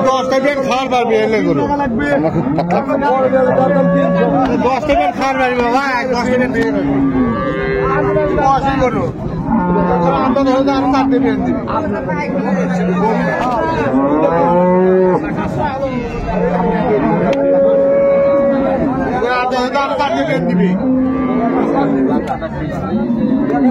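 Milk cows and calves moo repeatedly and loudly at a busy village cattle market, their calls overlapping with the chatter of people talking nearby.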